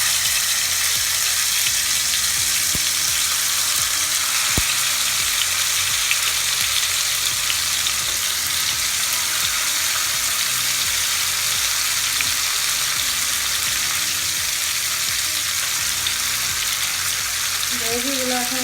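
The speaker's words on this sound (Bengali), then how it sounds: "অয়েল দিয়ে দিচ্ছি। চিকেনটা দিয়ে দিচ্ছি একটা একটা করে।" Chicken pieces for tandoori chicken frying in oil, a loud continuous sizzle and hiss running throughout with no talk over it.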